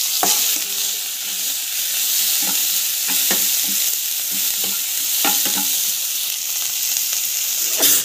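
Mustard seeds, cumin, chana dal, urad dal, coriander and ginger fry in hot oil with a loud, steady sizzle, broken by sharp scraping taps as a spoon stirs the pan.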